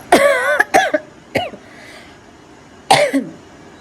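A person with a lingering cough after a fever coughs several times up close, two quick harsh bursts, then a lighter one, and another after a short quiet pause.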